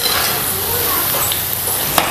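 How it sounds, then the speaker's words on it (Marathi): Chicken 65 pieces frying in hot oil give a steady, dense sizzle close up, with a faint clink of a utensil turning them. "सारखं असं पलटी करून आहे ना आपल्याला हे तळून घ्यायचं आहे."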